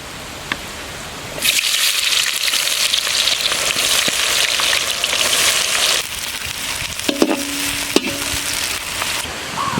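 Garlic and onion sizzle steadily in hot oil for a goat blood fry, a broad continuous frying hiss that swells louder after the ingredients go in, with a few stirring clinks near the end.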